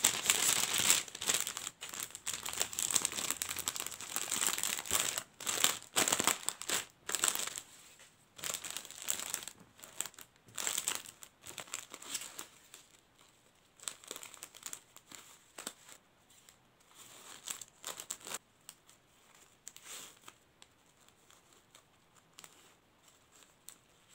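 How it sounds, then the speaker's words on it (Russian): Close, crisp crinkling of a plastic bag, dense and busy at first, then breaking into scattered rustles and short crackling bursts with pauses between. "У меня есть вот такой пакетик красивый."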